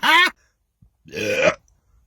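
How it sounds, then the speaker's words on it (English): Two belches after drinking Pepsi Zero from a bottle: a short loud burp, a pause, then a longer, rougher one, both close and dry with no talk. "love this slow release of belches"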